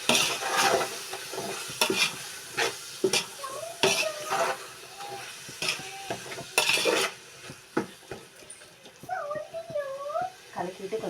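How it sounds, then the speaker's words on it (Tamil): Masala for chicken biryani stirred in a pot, with tomatoes already sautéed, giving scraping clinks and soft sizzling at close range; a voice speaks intermittently over the stirring. "நல்லா கலக்கி விட்டுக்கோங்க."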